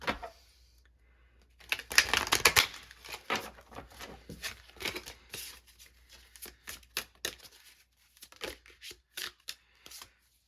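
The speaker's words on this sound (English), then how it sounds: "Let's just give this another good shuffle" Stiff tarot cards being riffled and shuffled in a run of quick crisp bursts, then a series of separate slaps and taps as the deck is handled, close up.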